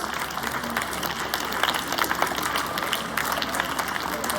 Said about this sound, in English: Big round of applause for these anchors.